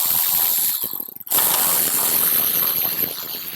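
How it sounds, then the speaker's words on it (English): A ratchet spins out the bolts holding the battery tray on a Harley-Davidson Street Glide, giving loud, close, continuous rapid clicking with a brief pause near the middle. "But while you're here, go ahead and just take these 2 bolts out as well."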